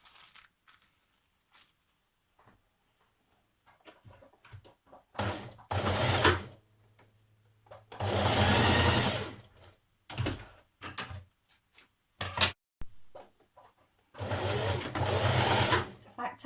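A sewing machine stitches the shoulder seams of a top in several separate loud bursts of rapid whirring, with pauses and soft handling noises between them.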